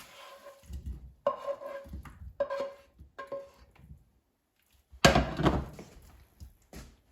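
Pieces of fried pineapple scraped and lifted from a frying pan onto a plate, giving a few separate close knocks and scrapes of utensil on pan and dish with brief pauses between.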